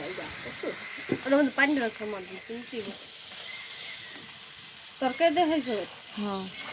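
Onion, green chili and ginger-garlic paste fry in a hot pan with a continuous close sizzle and hiss, while someone talks over it in two stretches.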